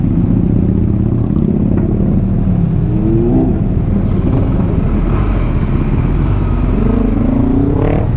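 Motorcycles and cars pass along a road approaching the quay at Cais de Gaia, engines droning steadily with rising pitch sweeps as a bike goes by around the third second and again near the end.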